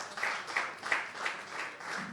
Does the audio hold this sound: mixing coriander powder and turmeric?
no